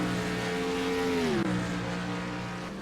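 Race cars roar around an oval track at a Friday night short-track race in Iowa, a loud sustained engine drone with a pitch that rises and then drops as a car sweeps past mid-lap.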